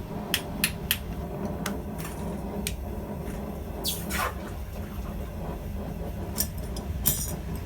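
Sharp hammer blows on a forge-welded copper bracelet, scattered and uneven, ringing against a steady background roar from the forge, some strikes closer together and a few lighter taps between.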